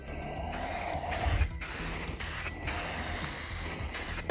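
Dupli-Color adhesion promoter mists from an aerosol can onto a Ford F250 door panel in a series of close, hissing spray bursts with brief pauses between them.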